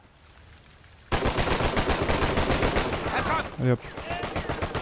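Rapid bursts of automatic gunfire fill an Uncharted 4 multiplayer match, loud and continuous after a quiet start, while someone talks over the shooting.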